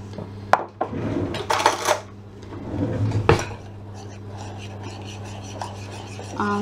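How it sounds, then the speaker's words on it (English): Meatloaf ingredients and balsamic vinegar being mixed in a bowl, with close scraping, rubbing and clinking of a utensil against the bowl in irregular strokes, loudest early on and then fading to softer stirring. "And just mix that together."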